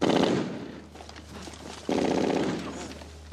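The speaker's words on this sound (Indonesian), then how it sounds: "sebuah tembakan senapan mesin memecah konsentrasi Kompi" Machine-gun fire in a WW2 setting comes as two loud sustained bursts, the first opening the clip and the second starting near the two-second mark, separated by a quieter stretch of lower rumble.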